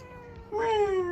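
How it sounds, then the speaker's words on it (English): A cat gives a single clear meow, rising then sliding down, close and fairly quiet in a calm indoor room. "Philip, here's a cutie cat"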